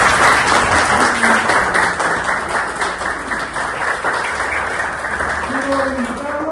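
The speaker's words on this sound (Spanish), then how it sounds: "Un aplauso por el secretario" Loud, continuous applause from the audience at a public assembly, honouring the secretary; dense clapping holds steady throughout, with faint voices underneath.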